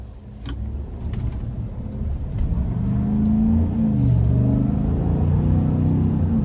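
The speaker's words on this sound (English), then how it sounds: "let's go ahead and take this 2025 GMC Sierra 1500 Denali Ultimate out on the road for a test drive" A 2025 GMC Sierra 1500 Denali Ultimate with a 5.3 engine pulls away, a low rumbling engine note swelling as it accelerates, heard from inside the cab with a few small clicks and no talking.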